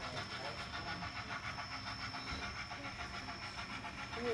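Model Santa Fe train running on a store layout, a steady low rumble and rolling hiss of wheels on track throughout, with faint voices in the background.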